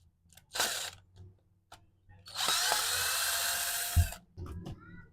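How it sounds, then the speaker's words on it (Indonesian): A handheld power drill unscrews bolts on the back of an angle grinder under repair, two close whirring bursts, a short one and then a longer sustained run, separated by quiet clicks and handling noises. "Saya sudah siapkan bor ini untuk bukanya."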